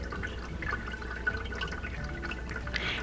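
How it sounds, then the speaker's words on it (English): Vinegar and water trickling and dripping through an Aerogarden during cleaning, a steady soft gurgling flow with scattered drips, close and continuous with no one talking. "I wanted you guys to hear kind of the ASMR beautiful sound of it actually filtering"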